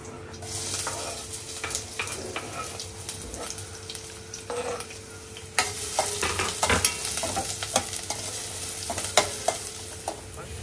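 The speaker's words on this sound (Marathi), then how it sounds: "तर दीपालीने आता मोरीचा मटण करूक सुरुवात केलेला. आणि मस्तपैकी फोडणी दिल्या ना." Spice tempering sizzles hard in hot oil for a shark (mori) curry, a loud continuous frying hiss. Stirring scrapes and pan knocks run through it, and the sizzle surges partway through.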